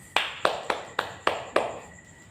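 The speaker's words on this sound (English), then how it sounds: "Let's all clap our hands" A class of children clapping together in a classroom, six sharp, evenly spaced group claps in a steady rhythm, each ringing briefly before the next, with the final one trailing off.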